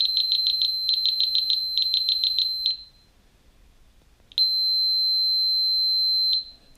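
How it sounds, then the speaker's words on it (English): Skydiving altimeter cycling through its alarm tones in demo mode: a fast run of rapid high-pitched beeps for nearly three seconds, a pause, then a single steady electronic tone held for about two seconds, close and clear with no talking. "you can see that I can click through each alarm and it will show me what the alarm sounds like"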